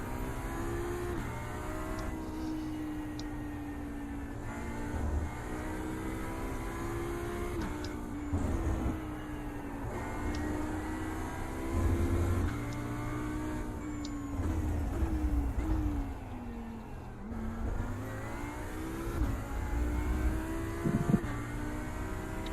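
An Audi GT3 race car laps Laguna Seca, its engine roaring steadily from inside the cockpit with repeated rising and falling revs through gear changes, loud and continuous throughout.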